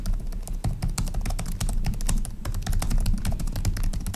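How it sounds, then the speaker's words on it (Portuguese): Steady, rapid key clatter from an Acer Triton 300 SE gaming laptop's RGB keyboard, dense, close clicks with no talk over them. "é um teclado bem bom, gostoso de digitar"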